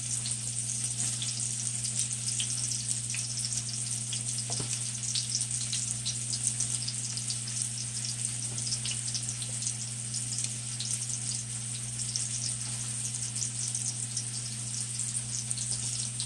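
Sweet potato fries sizzling in hot frying oil, a constant crackling hiss with small pops over a steady low hum, close and continuous with no one speaking.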